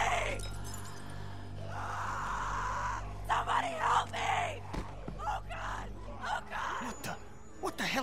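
A girl's screams ring out in The Walking Dead video game, rising in several sharp, strained bursts over a low ambient hum, with some crashing impacts and a voice nearby.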